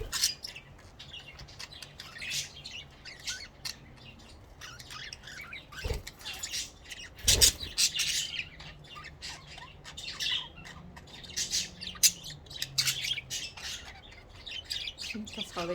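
A group of protective pet birds chirps and squawks almost nonstop indoors. The calls are loud and sharp, with one harsh burst standing out, and a voice talks faintly underneath.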